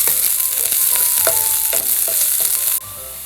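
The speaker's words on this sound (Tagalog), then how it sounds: "Ibisayin lang natin siya hanggang sa lumambot yung white onions." White onions sauté for sardine sisig in a pan, giving a steady, close sizzle with repeated spatula scrapes and light clinks, and no voices.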